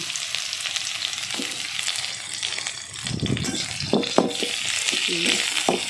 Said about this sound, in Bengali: পেঁয়াজটা আমি একটু ভাজা ভাজা করে নিচ্ছি